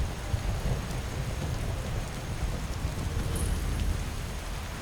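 Steady heavy rain with low rumbling thunder fills a dark video-game night scene near a Dragon Priest cult site, a constant dense wash with no voices.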